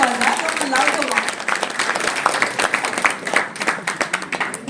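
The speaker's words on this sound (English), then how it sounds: "Louder, big round of applause, yaar." Audience applause at the launch event of a women's handball league in India, a steady dense wash of clapping from a crowd lasting throughout, with voices mixed in.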